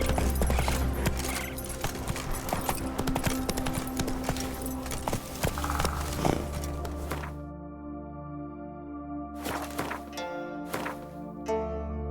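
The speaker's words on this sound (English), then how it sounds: "Run, Roach" Roach the horse gallops in The Witcher 3 game, a steady run of hoofbeats over a loud, dense game soundscape that thins out toward the end, no talk over it.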